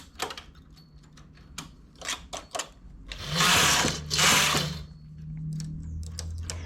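A domestic knitting machine's carriage runs across the needle bed while knitting a zig zag pattern with a transfer tool: a series of quick mechanical clacks, then two longer loud rasping sweeps of the carriage, all close up with no voices.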